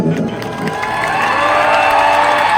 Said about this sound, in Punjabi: ਖੁਸ਼ ਹੋ ਕੇ ਜਿੰਨੇ ਮਰਜ਼ੀ ਜ਼ੋਰਦਾਰ ਤਾੜੀਆਂ ਲਾਓ ਯਾਰ